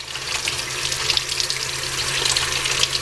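Water runs in a steady stream over the screen of a Samsung Galaxy S20 smartphone, a constant close hiss and splash with no talk.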